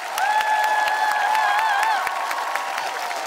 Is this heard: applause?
yes